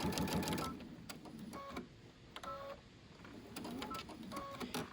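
A sewing machine stitches fabric for a carry-all organizer, its motor buzzing in steady runs with short pauses and faint mechanical clicks, close and moderately quiet.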